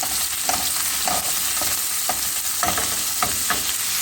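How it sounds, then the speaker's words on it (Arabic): Chicken pieces frying with onion in a pan for a capsicum and chicken gratin, a steady loud sizzle with occasional stirring scrapes, no talk. "هنايا تحمر لي الدجاج، رايحه نحط معاه بصله تحمر"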